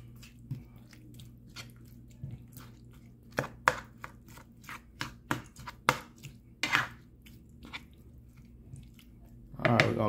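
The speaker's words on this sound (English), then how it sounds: "Stirring it up, kind of breaking up those long sides up as well." A spoon stirs and breaks up freshly cut sweet corn in a cooking pot, making irregular close knocks and scrapes against the pot with soft wet squishing between them.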